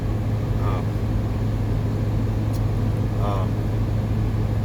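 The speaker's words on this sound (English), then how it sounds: "I'm idling my truck a little bit." A truck engine idles with a steady low drone throughout, with a constant hum and a couple of faint, brief tonal chirps above it.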